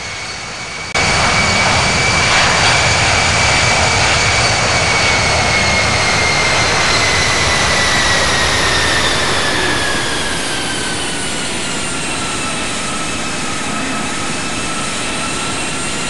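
Airbus A320 jet engines spool up for takeoff in the Infinite Flight game, a loud steady roar with a whining tone that sweeps slowly downward and then settles to a slightly quieter sustained rumble.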